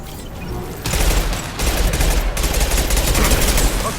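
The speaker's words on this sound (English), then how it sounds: "Concussive shot!" Rapid weapon fire and impacts from a concussive shot ability in Mass Effect 2 combat, loud and dense, with a burst starting about a second in and a fresh wave around the halfway point.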